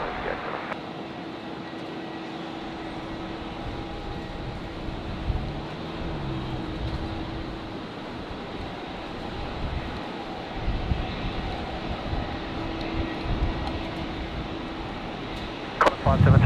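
An airliner takes off from runway 19 at a windy Brisbane Airport, a steady broad roar mixed with gusting wind noise across the whole stretch, with radio voices talking over it.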